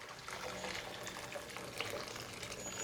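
Water pours into a cooking pot of leftover boiling liquid for a chicken noodle nugget recipe, a faint steady trickling stream running continuously with no pause.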